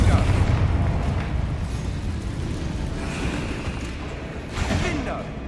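A Confringo spell detonates in a wizarding video game, a loud, deep booming blast that rumbles and rolls on for several seconds, with a few lighter crackles near the end.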